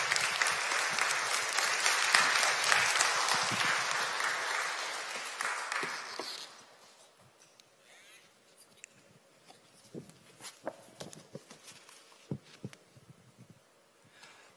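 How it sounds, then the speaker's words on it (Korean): Audience applause welcoming a guest pastor at a women's church fellowship retreat, a loud dense wash of clapping for about six seconds that stops abruptly, leaving a quiet room with scattered faint knocks and rustles. "박수로 환영해 주시면 감사드리겠습니다."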